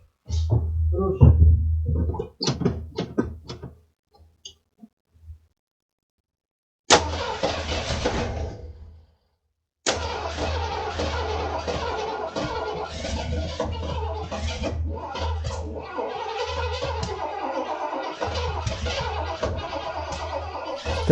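An abandoned 1983 Ford F150 left unused for five years cranks in bursts after a few brief voices, then catches and settles into a loud, steady idle that runs on to the end.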